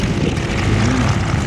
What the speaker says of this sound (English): same engine, built down in Mobile, Alabama, Continental 7-cylinder